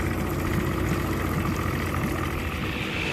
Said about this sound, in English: Walleye Walter decided he would try the engine one more time while we were out there.